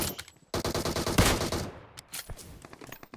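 Rapid automatic gunfire in PUBG Mobile, with dense bursts of closely spaced shots rattling loud and near, then sparser scattered shots trailing off.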